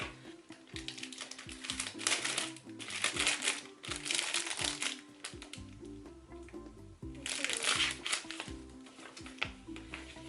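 Brown kraft paper envelopes are handled up close, crinkling and rustling in bursts with quieter gaps between, while soft background music plays underneath.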